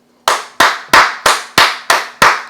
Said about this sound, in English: I'm going to give a hand clap